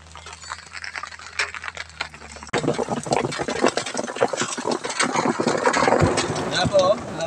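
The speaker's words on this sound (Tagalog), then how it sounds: "Ayan po, lakas po ng ulan." Heavy rain pours down on a tricycle roof during a fishing trip, a dense hiss of drops that swells suddenly and stays loud and steady, with a person talking under it and a low engine-like rumble.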